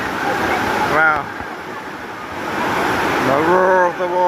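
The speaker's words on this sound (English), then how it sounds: "the roar of the water." Dunn's River Falls in Jamaica roars loudly and steadily as rushing water fills the whole scene from up close, with voices speaking over it at times.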